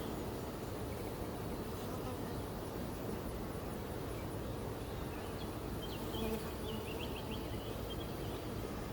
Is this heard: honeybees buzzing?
yes